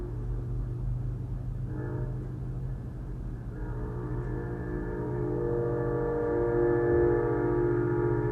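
A train passes with a sustained horn blast, a loud steady rumble holding throughout and swelling slightly toward the end, with no talk over it.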